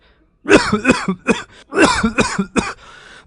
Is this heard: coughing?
yes